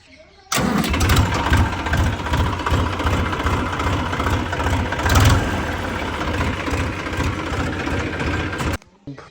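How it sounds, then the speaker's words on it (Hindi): Massey Ferguson 245 DI tractor fitted with a changed silencer, its diesel engine running loud and close with a steady, rapid chugging throb for about eight seconds before it cuts off. "कि इस ट्रैक्टर की वॉइस चेक कराते हैं आपको।"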